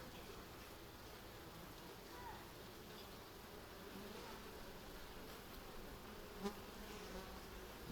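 Honey bees buzz steadily around an open hive during an April inspection of frames with brood and capped honey, a dense continuous hum close by with a brief knock near the end.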